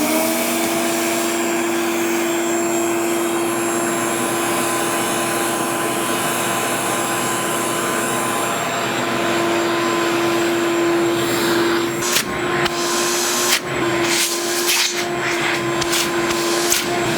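A wet/dry shop vacuum runs steadily and loud, sucking up blue flour with a constant whine, followed by some clattering handling noises near the end.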